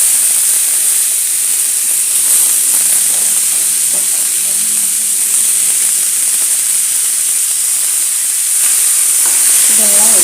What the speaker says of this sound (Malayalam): ഇതെല്ലാം ഇട്ട് നന്നായിട്ടൊന്ന് ഇളക്കി വേവിച്ചെടുക്കണം